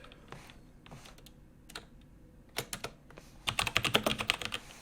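Clicky computer keyboard typing while coding in a 2D animation tutorial: scattered light keystrokes at first, then a faster, louder burst of rapid taps near the end, close and alone with no voices.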